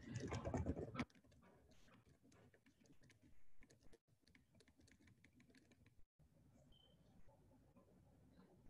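Keys on a computer keyboard tap in short irregular bursts, quiet and close, after a brief louder opening noise.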